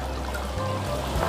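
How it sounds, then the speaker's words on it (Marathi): Spiced masala water pours into a pot of browned mutton curry, a brief steady splashing trickle close by with no talk. "यावर आता मसाल्याचं पाणी जे आहे ते घालते."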